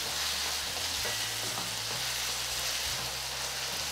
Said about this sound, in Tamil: முந்நூறு கிராம் தக்காளி இந்த தக்காளியை வந்து நீங்கள் நல்லா ஒரு மூணுலேருந்து நாலு நிமிஷம் வதக்கி விடணும்